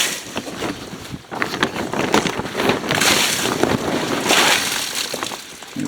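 Rainwater sheets and splashes off a tarp canopy as it is pushed up from below, a broad rushing pour in loud surges that swell and fade over a few seconds.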